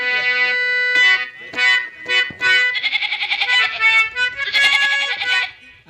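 A goat bleats in a rapid series of loud, wavering, nasal calls, close and prominent, with breaks between bursts and no talk.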